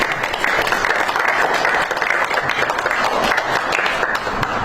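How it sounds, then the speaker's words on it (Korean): A round of applause from an audience at a diplomatic event with Donald Trump, dense sustained clapping throughout, loud and close with no talk over it. "Round of applause"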